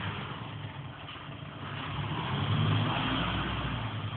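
Truck engine labouring up a hill as the driver changes gear, a steady low drone that swells and grows louder toward the end, heard from inside or close by, no talk.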